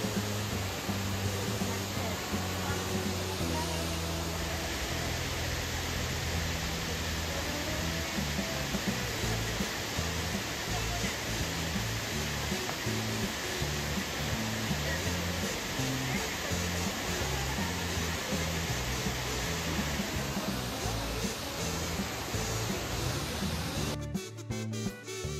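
Silver Falls, a roadside waterfall near Kodaikanal, roars as a steady, loud broadband rush of falling water that fills the whole stretch without pause, cutting off abruptly at the very end.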